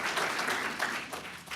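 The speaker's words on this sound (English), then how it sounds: "I think that deserves another round of applause" Audience at a university comics forum keynote breaks into steady, dense applause, a continuous wash of many hands clapping at close range with no talking over it.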